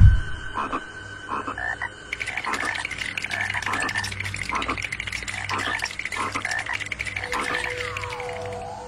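Frogs croak in a horror cartoon, a loud repeated rhythmic croaking chorus with steady pulses over a bright high tone, continuing throughout with a faint descending whistle near the end.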